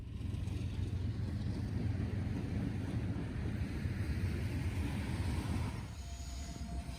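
An eastbound CSX freight train with extra locomotive units rumbles past at close range in a steady low roar of wheels and cars, easing to a lighter rolling sound near the end.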